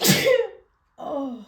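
Single loud, close sneeze with a sharp burst that trails off, then a short pause and a voice speaking briefly.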